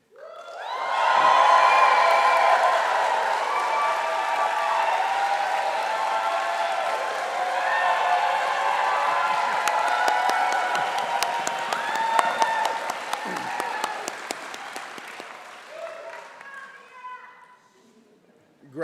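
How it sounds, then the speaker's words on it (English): A commencement crowd breaks into loud clapping and cheering, swelling quickly to a full roar of applause with whoops and hollers, sustained for many seconds before thinning into scattered claps and fading out. "I encourage you to clap loudly, quickly, to hoot and holler and cheer"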